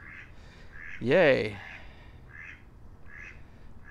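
A duck gives one loud, harsh quack near the start, close and clear, followed by faint softer calls in the background while a person briefly speaks.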